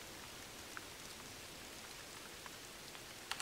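Rain falls in the video game The Hunter, set in Patagonia: a steady, even hiss of rainfall with occasional louder drops tapping through.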